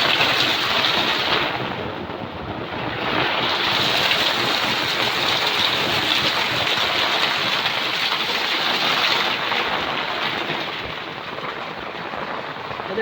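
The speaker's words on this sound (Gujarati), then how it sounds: "પવનની સાથે વરસાદ બાકા ઝીકી પડે છે" Heavy night rain driven by wind pours down onto a rooftop terrace, a dense, loud, continuous roar that rises and eases slightly in strength, with no voices.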